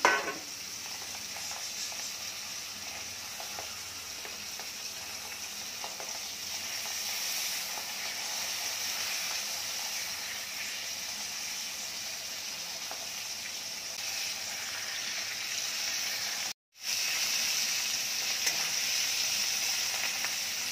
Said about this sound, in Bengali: এই তো মাছ তেলে দিলাম